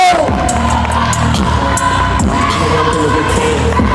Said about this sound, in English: Coach Jake Edwards, give him a round of applause. Yes! Clap it up